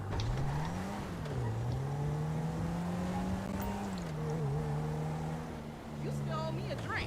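A stolen car driven in GTA 5 Online hums with a steady engine drone that rises and falls as it accelerates and eases off, with people talking over it throughout.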